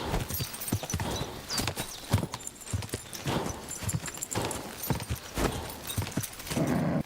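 Hooves clip-clop in a steady walking rhythm as a horse moves along in a video game, with faint background noise between the hoofbeats.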